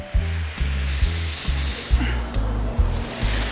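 Pieces of leopard shark sizzle in olive oil on a Camp Chef griddle, a loud close crackling hiss broken by regular soft thumps and shifts as the fish settles, with no talking.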